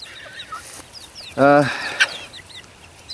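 Chickens and roosters cluck and call at a backyard coop, with one loud, close burst of crowing or squawking in the middle and scattered fainter chirps and clucks around it.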